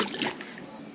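Water splashes and trickles over farm sprayer parts as they are rinsed off, a soft, fairly quiet wash of running and sloshing liquid.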